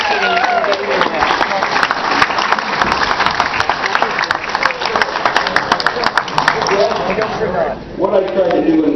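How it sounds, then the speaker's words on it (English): Audience applauding comedian Tony O'Connor at his comedy show, a dense sustained round of clapping that runs for several seconds, dips briefly near the end, and picks back up, with voices mixed in. "Please give it up for a round of applause for Tony O'Connor."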